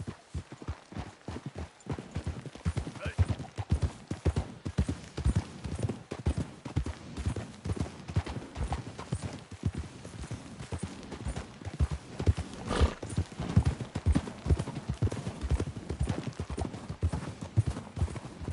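In Red Dead Redemption 2, several horses clip-clop continuously, a dense, loud, close run of hoofbeats that holds its rhythm throughout, with no talk.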